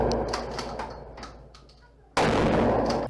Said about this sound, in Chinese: 警察大动作，开枪弄门壁来